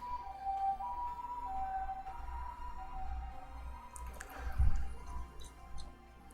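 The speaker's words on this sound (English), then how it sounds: "Sorry about the sirens." A siren wails faintly in the distance, its tone rising and falling over a quiet room, with a brief soft thump partway through.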